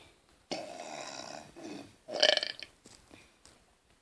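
A long, loud, croaking burp from a burp contest rolls out close to the mic for about a second, followed by a second rougher, gurgling belch and a few trailing softer grunts.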